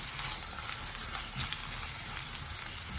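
Potatoes fry in a pan for aloo palak, a steady, close crackling sizzle with faint stirring movement running evenly through the short stretch, no voices.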